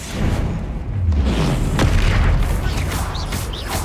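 Bombarda explosion spell from Hogwarts Legacy, a loud low booming blast followed by rumbling debris and crackles, with a sharp hit partway through, alone without talk.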